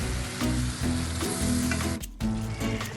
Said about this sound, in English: cook it on slow fire till the sauce thickens